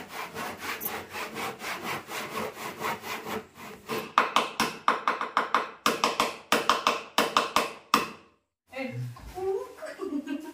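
A hand saw cuts through wooden planks with rapid rhythmic rasping strokes, loud and close, pausing once midway and again near the end, where faint voices follow.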